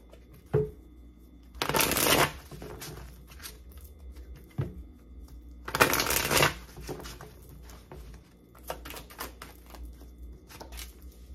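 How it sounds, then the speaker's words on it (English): Tarot cards being shuffled in a reading session, with two loud riffling bursts near the start and middle and lighter card handling and taps in between, close up and with no talking. "I'm going to shuffle all the cards out first"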